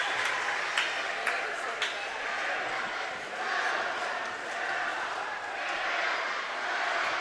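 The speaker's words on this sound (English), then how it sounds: "the crowd letting him know that he missed the first free throw" A high school boys' basketball crowd in a gym reacts to a missed free throw with a sustained rolling murmur and jeering that swells and dips, a few sharp clacks on top, while a commentator talks over it.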